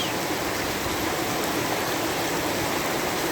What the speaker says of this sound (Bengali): টিনের চালে যে বৃষ্টির শব্দ ঝুমঝুম শব্দ